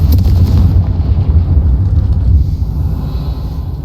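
The Confringo fire spell in Hogwarts Legacy erupts in a loud, heavy explosion with a deep rumbling boom that rolls on for several seconds, dense and close, slowly easing off.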